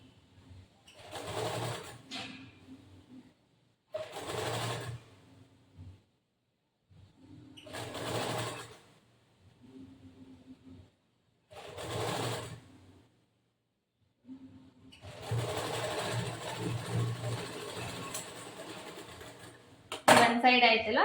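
Sewing machine stitching the armhole lining of a boat-neck blouse, running in four short bursts with pauses as the fabric is turned, then a longer run; a voice speaks during the pauses.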